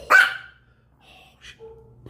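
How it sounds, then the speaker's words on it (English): A dog barks outdoors, one loud sharp bark followed by a few fainter, softer yips and whimpers, with quiet gaps between them. "there's a dog barking outside."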